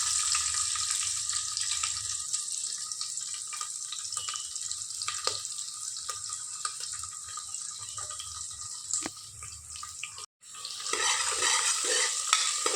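Onion and green chillies frying with cumin seeds in a pan, a dense steady hiss close up throughout, with a brief dropout near the end before the sizzle resumes strongly.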